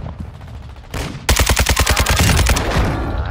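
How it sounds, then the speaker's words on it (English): Automatic gunfire in a battle royale video game: a loud, close burst of rapid, evenly spaced shots takes over after a short lead-in of softer shooting, with no talk over it. "we just shot this team"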